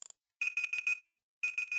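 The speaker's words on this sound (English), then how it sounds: "that's my timer." A timer alarm beeps in quick pulsed bursts, one group of four beeps and then another group of three after a short pause, loud and clear with no talk.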